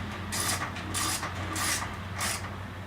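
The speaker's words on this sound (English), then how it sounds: "Take your 1/2 inch ratchet, socket, tighten it down." A 1/2 inch ratchet and socket tighten the nut on an Echo SRM 230 string trimmer head, giving four even bursts of close, rapid ratcheting clicks.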